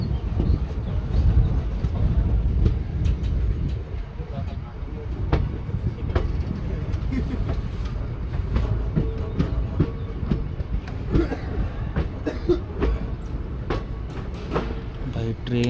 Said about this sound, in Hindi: भाई ट्रेन ना अपनी कटरा पहुंच रही है